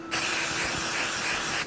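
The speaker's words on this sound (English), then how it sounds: "Take your cooking spray." A can of cooking spray hisses in a single steady burst lasting over a second, close and on its own, as gloves are greased for shaping Halloween rice crispy treats.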